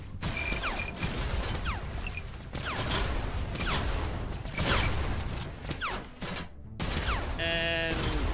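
Shotgun blasts and busy mechanical clatter fill a noisy stretch of the sci-fi tower defence builder game Hostile Mars, with sustained dense action and a brief electronic chime near the end.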